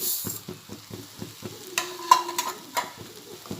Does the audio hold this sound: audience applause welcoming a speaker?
no